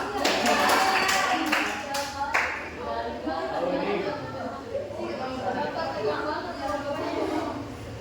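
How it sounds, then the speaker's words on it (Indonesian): A classroom of students applauds together, a burst of dense clapping in the first couple of seconds that fades as a teacher begins talking over faint chatter. "Tepuk tangan."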